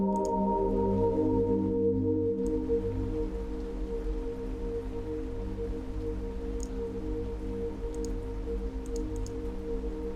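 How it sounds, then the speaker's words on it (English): Steady rain-like hiss synthesized in Omnisphere over a sustained low droning tone, continuous and even for the whole stretch, with no voices. "You hear the rain?"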